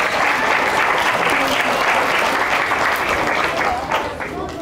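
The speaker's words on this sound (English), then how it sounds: "So big round of applause for him." A crowd at an elementary school event applauds loudly and steadily, a dense burst of clapping that tapers slightly at the end.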